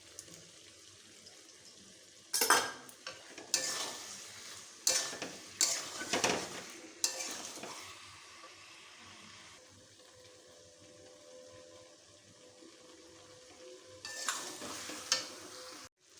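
Fried prawns being stirred into a young jackfruit curry in a pan, with several loud scraping, sizzling stir bursts between quieter stretches of low frying.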